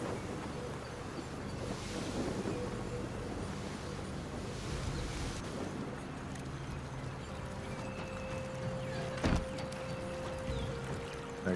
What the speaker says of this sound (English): I think I'm gonna move the ship.